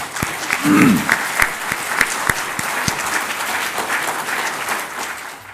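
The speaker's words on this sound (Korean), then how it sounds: "오늘 멀리서 미국에서 축하받고 있는 국진님을 위해서 박수 한번 해드립시다" Audience at a reading gathering applauding for a birthday with loud, sustained clapping, sharp individual claps standing out, a brief tonal sound near the start and a voice heard faintly.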